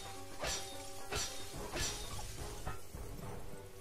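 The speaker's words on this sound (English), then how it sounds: "Man, Ratchet really likes to smash up glass." Glass smashing in the video game Ratchet & Clank: Tools of Destruction, several separate crashing shatters spaced about half a second apart over a steady game background hum.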